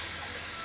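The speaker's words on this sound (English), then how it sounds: "And we're going to pour some boiling water over that." Boiling water is poured over saffron strands in a kitchen, giving a brief, steady, soft splashing rush.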